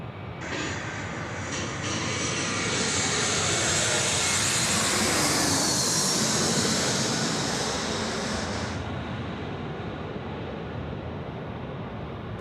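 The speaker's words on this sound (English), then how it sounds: "Another Jetstar aircraft in." A Jetstar airliner lands at Sydney Airport at night, its engine roar swelling loud and steady for several seconds before easing off, with broad rushing noise throughout and no voices over it.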